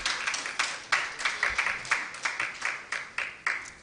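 A few people at a formal launch event clap together in a loose, rhythmic pattern, roughly two claps per second, close and fairly loud, with no voices over it.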